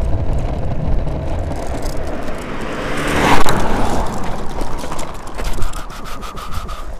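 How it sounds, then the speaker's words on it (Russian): A car overtaking on a country road, heard from an electric scooter riding along the shoulder: broadband road and wind noise with a brief louder swell as the vehicle passes close by, then continued rumble. "Это поехавшая машина на обгон."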